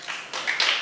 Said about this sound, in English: I heard many claps.